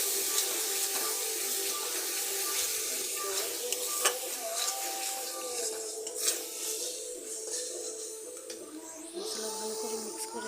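Spice paste for chicken curry is stirred and scraped through hot oil in a pan, giving a steady wet sizzling hiss with occasional light spoon-on-metal clicks, close and continuous throughout.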